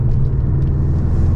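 A Porsche loaner car rumbles over a rough road, a loud continuous low throb from the cabin with slight bumps, alone with no voices.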